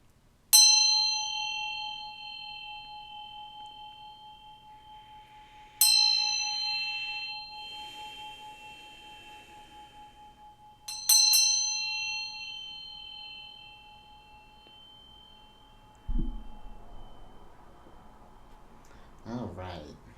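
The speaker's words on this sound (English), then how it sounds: "I'm gonna ring this bell to bring in some solid vibrations here" A hand bell rings three times at even intervals to welcome the new moon, each strike a bright metallic ding that rings on and fades slowly. A brief voice follows near the end.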